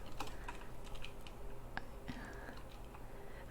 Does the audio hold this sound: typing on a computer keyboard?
yes